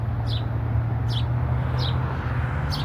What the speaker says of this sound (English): You can hear the birdies chirping.